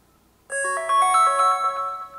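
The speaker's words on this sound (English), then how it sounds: "we have a library of sounds to pick from here. So if you want to preview them, just tap on them." An HTC One M9 ringtone previewed from the phone's built-in sound library, a bright melodic chime phrase starting abruptly after a brief silence and ringing on clearly and loudly.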